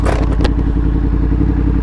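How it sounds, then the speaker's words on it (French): A Yamaha MT-10 motorcycle with an Akrapovic exhaust idles loud and close, its steady engine rumble broken by a couple of sharp crackling pops near the start. "Et ça fait un énormément bon son. Ça fait des pop and bang."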